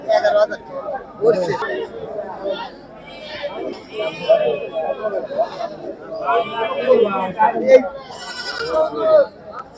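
Black Bengal goats bleat repeatedly at a busy goat and sheep market in Sirajganj, their calls rising over steady crowd chatter and people talking nearby.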